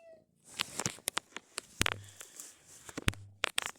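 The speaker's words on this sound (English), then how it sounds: "And his meows are so little." A Ragdoll cat gives several small, soft meows in short bursts, close and quiet, with brief gaps between them and no talking.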